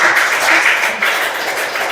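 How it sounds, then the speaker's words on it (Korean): A crowd applauds steadily at a church council general assembly in Sejong, a dense, continuous wash of clapping that stays loud throughout. "남진성 목사님 나오실 때 큰 박수로 환영하겠습니다."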